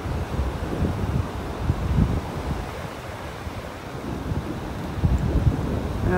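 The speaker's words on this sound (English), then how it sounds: "Hear that wind." Steady wind buffeting the microphone on a beach in North Naples, Florida, a low rumbling roar with gusts, mixed with a broad wash like distant surf.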